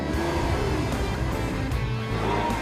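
A Lamborghini engine revving on the open road, a continuous throaty roar with rising and falling pitch, close and loud without a break.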